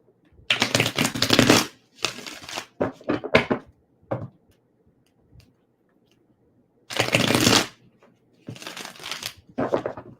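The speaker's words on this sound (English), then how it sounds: "just shuffling the cards for you guys" Several bursts of tarot cards being riffled and shuffled, each lasting about a second, separated by short pauses, close and crisp.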